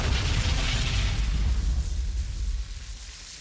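An improvised explosive device detonates at the Instituto Lula, heard as a deep, heavy boom that rumbles on and slowly fades over a few seconds, with no voices.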